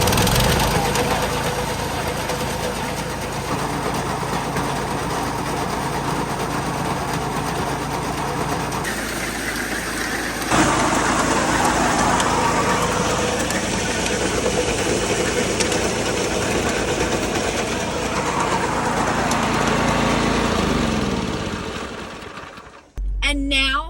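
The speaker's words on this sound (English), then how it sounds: "Now, to start your auger, you got to put it into the on position." The pull-start engine of a grain auger on an Australian sheep farm runs steadily and loudly close by, a continuous buzzing drone before it cuts off abruptly near the end.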